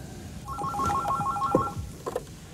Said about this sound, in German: Wieso klingelt das Telefon jetzt?